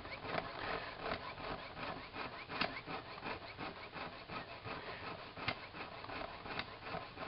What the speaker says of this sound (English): Hey, it's jump ring cutting.